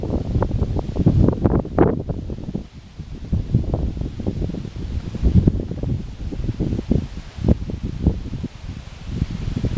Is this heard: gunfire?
no